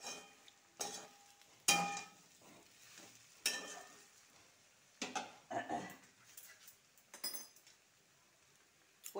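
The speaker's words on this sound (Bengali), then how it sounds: "এইভাবে ভালো করে ভেজে নিতে হয় মশলাটা" Jackfruit and potato with spices fry in ghee, with stirring scrapes and short bursts of sizzle coming and going over a quiet background. No one speaks.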